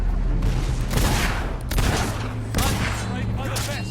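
Gunfire and mortar blasts in a Fable 3 battle, repeated dense fusillades and booming volleys pounding in waves, loud and close, with voices shouting through the din.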